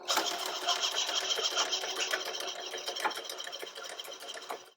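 IKON lane machine cleaner pump running a calibration test, a steady mechanical whir with rapid rhythmic clicking, continuous and close for the whole stretch with no talk.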